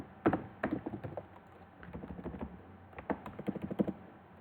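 Keystrokes on a computer keyboard as a Linux passwd command is typed on Ubuntu 21.04, coming as quick, uneven bursts of close, crisp key taps with short pauses between groups.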